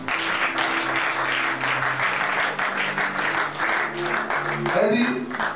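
A church congregation bursts into sustained applause and cheering for the Lord, loud and close, with voices calling out over the steady clapping.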